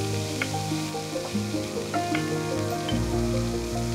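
Shrimp and chicken stir-fried in a wok give off a continuous sizzling hiss with faint scraping of the stirring, steady and close, over soft background music.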